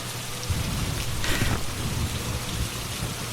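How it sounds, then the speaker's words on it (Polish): Heavy rain hisses steadily in a Phasmophobia thunderstorm, with a thunder rumble swelling briefly partway through; no voices, just the constant downpour. "burza"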